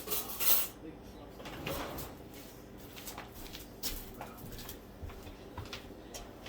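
A big spoon is fetched from a kitchen drawer, with soft clinks of cutlery, a drawer knock and rummaging, close and fairly quiet.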